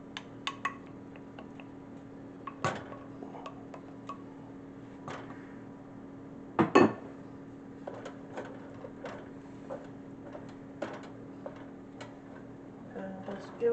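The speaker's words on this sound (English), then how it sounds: "And just give it a stir." Couscous and cheese stirred in a pot, giving scattered light ticks and clicks of a spoon against the pot over a faint steady hum, with a few sharper knocks in between.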